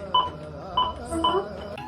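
Telephone keypad dialing tones ring out as a few short, separate beeps at an uneven pace, clear and close, before a phone call.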